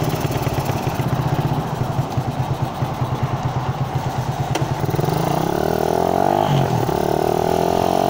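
A Suzuki Raider 150 motorcycle running loud and close, starting with a rough, pulsing idle and then revving hard into a rising, sustained engine roar.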